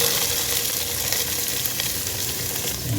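Onions frying in oil for a fried fish kulambu, a steady close hiss and crackle that runs without a break and carries faint scraping, with no voices.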